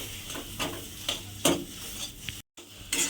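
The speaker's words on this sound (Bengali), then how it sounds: "মিশিয়ে নিয়ে আবার একটু ভাজা ভাজা মতো করে নিতে হবে" Potatoes coated in chilli powder are stirred and fried in a pan, with a regular series of scraping spatula strokes over a soft sizzle and one brief dropout.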